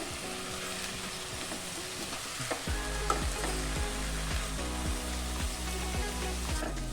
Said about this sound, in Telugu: బియ్యం వేసిన తర్వాత మనము చాలా మెల్లగా బియ్యాన్ని మిక్స్ చేసుకోవాలి